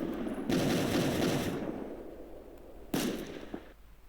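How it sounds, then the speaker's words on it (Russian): Rapid automatic gunfire in a Minecraft zombie-apocalypse server, a long loud burst followed by a pause and a shorter second burst, crisp and close with no talking. "І пушки, автоматы, пистолеты, дробовики, винтовки и т.д."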